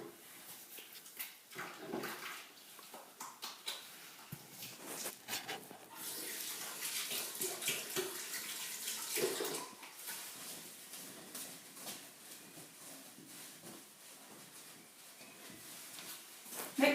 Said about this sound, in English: put on your apron, wash your hands